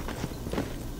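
A few quick footsteps approach from the front in the Call of Duty Mobile shooter game, short soft thuds in an uneven patter over a steady background.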